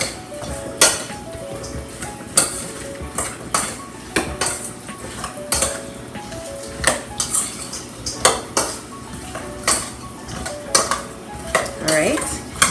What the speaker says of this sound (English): So I'm gonna give them a stir.